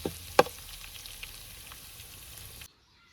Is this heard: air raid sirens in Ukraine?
no